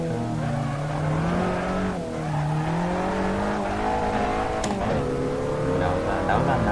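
The engine of an Abarth 500 Assetto Corse race car drones loud and close at steady revs under braking, its pitch dipping and rising as it downshifts to second gear, with a brief tyre or mechanical chirp near the end.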